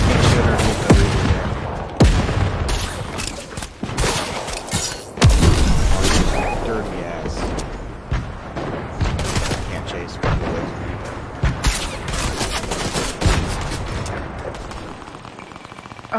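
Gunfire in a video game, with repeated loud shots and booms across a busy battle, and players talking over the shooting.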